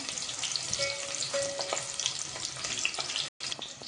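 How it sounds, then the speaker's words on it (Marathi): Chopped onion sizzles steadily in hot oil in a pan for masale bhat, a close, continuous crackling fry with small stirring clinks and no talking. "थोडासा परतून द्यायचा कांदा."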